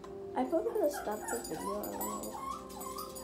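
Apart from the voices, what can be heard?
dog whimpering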